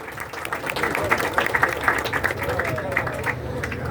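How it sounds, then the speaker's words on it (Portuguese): An audience applauding at a speech during a public ceremony in Salvador, a steady wash of many hands clapping with crowd murmur throughout. "Vamos aplaudir, pessoal!"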